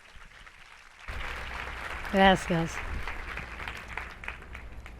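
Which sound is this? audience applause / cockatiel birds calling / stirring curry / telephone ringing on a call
audience applause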